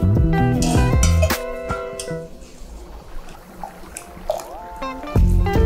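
Water pours out of a cooking pot and runs back in as it is refilled, a loose stream of splashing between bursts of music at the start and end.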